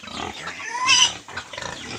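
Native pigs eat Indian mango and make loud, close grunts with a sharper squeal near the middle of the moment.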